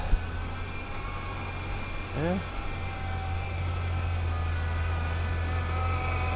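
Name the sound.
1996 Ford Ranger engine running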